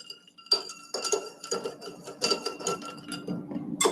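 Ice cubes clink and rattle against a glass while Manhattan cocktails are stirred, a close series of bright, irregular taps and jingles with no talking.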